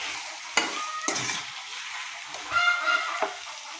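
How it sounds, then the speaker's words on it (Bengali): Chopped tomato frying in a pan during cooking of a beef head dish, a steady soft sizzle punctuated by sharp scrapes and clanks of a spoon stirring against the metal, close and without talk. "এটা ভালোভাবে টমেটোটা নেড়ে ঢেকে দেবো।"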